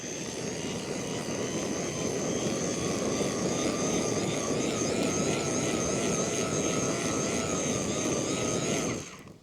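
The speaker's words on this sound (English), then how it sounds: "I'm gonna go from this side and use the blower and blow it towards the side that's not getting any of the fire." A blower forcing air onto a campfire, giving a loud, steady whooshing roar with a high whine above it that runs continuously and then cuts off abruptly near the end.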